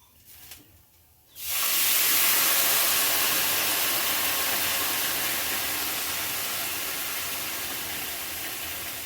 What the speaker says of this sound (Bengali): তাই দিয়ে দিচ্ছি চার বাটি জল